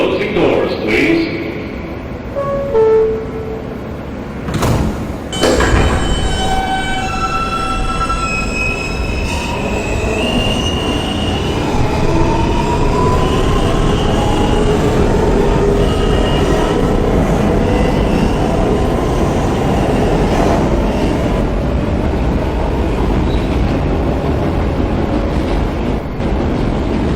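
A Queens-bound New York subway R train rolls loudly along the track, wheels squealing in rising and falling tones over a steady rumble, with an announcement voice speaking near the start.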